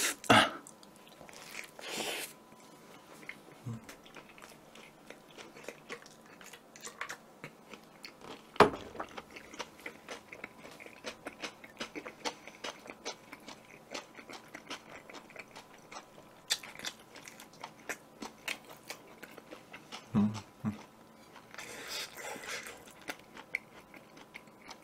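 Bites and chewing of a Burger King bulgogi burger during an eating challenge, with soft, steady mastication throughout and a few sharper crunchy bites near the start and later on, close up with no talking.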